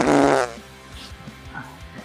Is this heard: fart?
yes